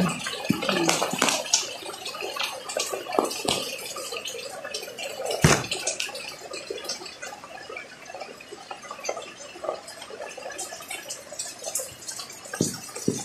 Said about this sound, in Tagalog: Tubig ng ulan.